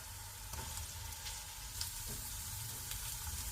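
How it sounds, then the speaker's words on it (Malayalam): Onion frying with ginger, green chili and garlic for anchovy roast, a faint continuous sizzle with occasional light stirring taps, no voices. "ഈ സവാള കൂടി ഒന്ന് ഫ്രൈ ചെയ്യുക."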